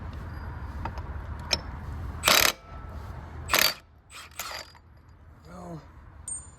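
A belt drive pulley is worked off a Harley Sportster, with metallic clanks, scrapes and two loud clattering bursts over low background noise.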